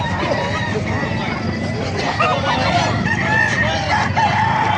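A rooster crows at a chicken market in Calumpit, Bulacan, amid a busy background of clucking fowl and distant chatter, the calls rising over a steady outdoor din.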